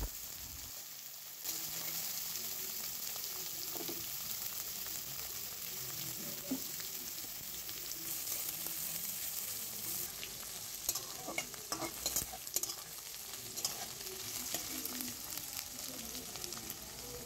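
Diced vegetables, carrots among them, fry and sizzle in a pan for shyama rice polao, a loud continuous crackle with repeated scraping and clatter of stirring throughout.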